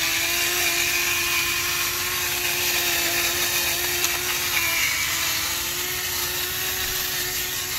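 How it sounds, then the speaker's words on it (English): A pepper grinder cracking pepper over roasting sweet potatoes, heard as a steady, close, motor-like whir with a constant tone that runs without a break for the whole stretch. "now I'm gonna add a little pepper to them. And you guys seen my pepper grinder before?"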